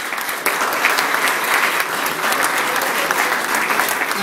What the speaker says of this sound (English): A round of applause for Anthony Davidson